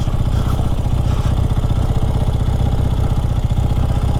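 Engine of a 48-year-old Honda street bike on slick tires riding through snow on a mountain road, a steady loud mid-pitched putter with rhythmic pulsing throughout.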